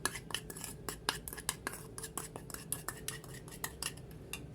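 A spoon stirs potato salad in a bowl, producing quick repeated clinks and scrapes of metal against the dish at close range, an irregular clattering rhythm with no talking.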